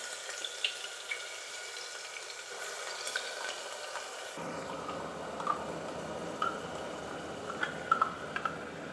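Ground onion hitting hot oil in a home kitchen pan while cooking rajma, a steady broadband sizzle and crackle that grows denser midway, with occasional sharp pops and spatters, close and continuous with no talking.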